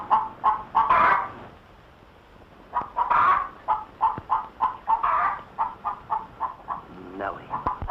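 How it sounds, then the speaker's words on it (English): A hen clucks in a run of short, rhythmic bursts, close and clear, with a few louder squawks breaking up the steady pattern. "Lay, hen, lay."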